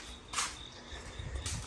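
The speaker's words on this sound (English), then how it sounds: "Crickets." Crickets chirp steadily outside a workshop, with a continuous high trill and a couple of brief louder bursts, heard close and alone.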